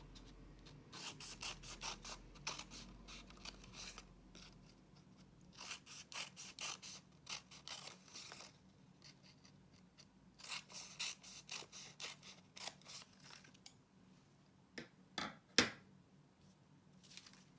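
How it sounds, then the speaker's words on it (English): Scissors cut through paper while making a Chinese paper lantern, a long run of quick, close snipping clicks in bursts with short pauses, faint and alone. "take your scissors and start cutting along the lines that you just drew"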